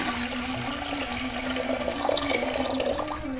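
Water pours steadily into a cooking pot for khapli wheat porridge, a continuous close splashing rush with a faint ringing tone and no speech.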